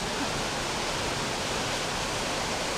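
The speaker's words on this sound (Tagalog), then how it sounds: "Ito yung falls." A waterfall at Kalayaan Twin Falls pours in a steady, dense, full roar, loud and close, with no break or other sound over it.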